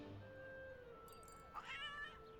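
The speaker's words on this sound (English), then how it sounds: "A cat is stuck up in that tree." A cartoon cat meows from high up in a tree in an animated London street scene, a short rising cry near the end over steady background music and ambience.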